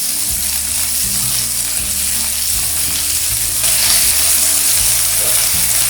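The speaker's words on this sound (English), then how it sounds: "Let's fry the garlic for about 20 seconds. Let's add the onions." Garlic and onions frying in hot oil in a pan, a loud, continuous dense sizzle with a low hum underneath, heard alone and close without any talking.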